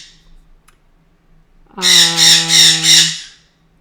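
A pet bird squawks loudly and close by indoors, a harsh cry pulsing four times in quick succession after a near-silent pause.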